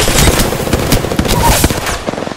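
Rapid automatic gunfire in the video game Apex Legends, a dense burst of sharp repeated shots in quick rhythm, loud and close, tapering to a few scattered pops at the end.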